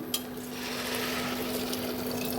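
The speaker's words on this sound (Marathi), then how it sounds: "ऍड करूया पाणी." Water pours into a pot of masala rice with a soft, steady rush and a faint hum beneath it, lasting about two seconds.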